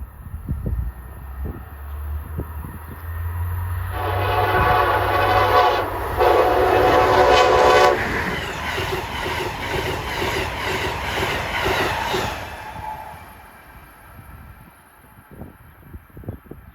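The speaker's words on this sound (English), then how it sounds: "here comes 127, right from New York to Washington, D.C." Amtrak train 127, running from New York to Washington, D.C., passes close by: a loud, sustained horn blast over the heavy rumble and clatter of the railcars, fading as the train recedes.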